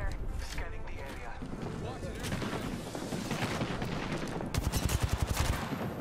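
Rapid automatic gunfire in the Apex Legends video game, with loud sustained bursts and a dense rattling volley near the end, under and around a voice talking throughout.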